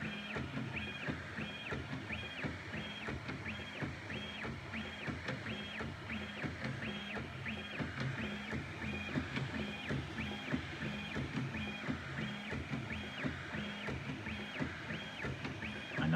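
A Prusa Bear 3D printer upgraded to dual Y stepper motors prints fast at 500 mm/s, giving off a steady mechanical whine. Stepper tones rise and fall in a repeating rhythm as the head moves back and forth, with no talk.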